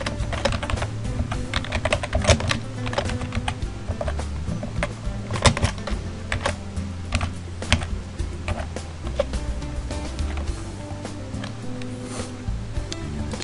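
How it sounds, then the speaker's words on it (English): Typing on a computer keyboard into a form in Oracle Applications, steady continuous clicking keystrokes, close and clear throughout with no talk. "we can type in our template"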